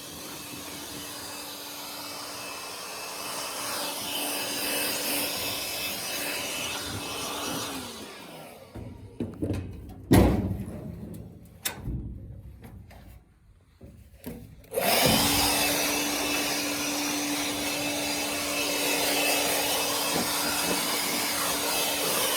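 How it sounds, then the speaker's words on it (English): Compressed air blows dust off a combine harvester during soybean harvest, a loud steady hissing roar that cuts out for several seconds of brief bursts and clatter, then resumes at full strength. "It's important to keep your machines clean and blown off and keep that dust away."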